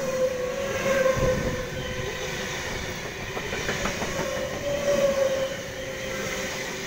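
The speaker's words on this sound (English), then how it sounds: "See you when the next train approaches." A train pulls in at a Sydney station platform, rumbling along the tracks with a hiss and rhythmic clacking of wheels, swelling and easing as it rolls in.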